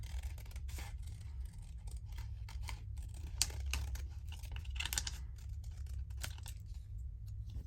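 Scissors snip repeatedly through paper ephemera for French Rococo-themed crafting, a steady run of close, crisp cuts over a low background hum.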